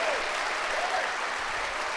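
Live show studio audience applauding guest Dan Hardy in London, a dense steady wash of clapping filling the whole moment with a faint voice briefly over it.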